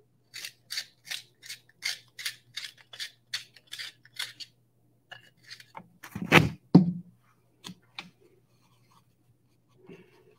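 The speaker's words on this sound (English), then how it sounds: "Sharpen this pencil here." A pencil is sharpened in a quick series of about ten crisp, rhythmic scraping strokes, then a few heavier scrapes and taps in a quiet room, close and clear.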